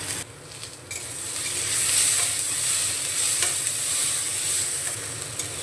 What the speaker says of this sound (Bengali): দেখুন বেগুনগুলো ভাজা ভাজা হয়ে এসছে